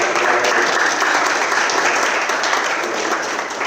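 A crowd claps steadily, sustained dense applause that stays loud and even before easing slightly at the end.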